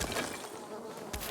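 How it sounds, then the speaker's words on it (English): Bees buzzing in the game Dying Light 2, a close droning hum that swells and fades over a brief moment, with no voices. "Wait, that sounded like bees."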